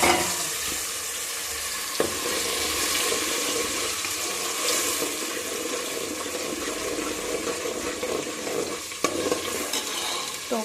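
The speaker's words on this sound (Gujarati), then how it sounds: "તેલ ગરમ થઈ ગયું એટલે ગ્રેવી નાખી દેવાની" Gravy for pav bhaji hits hot oil in a pan and sizzles loudly and continuously, with a few clinks of stirring over the steady frying hiss.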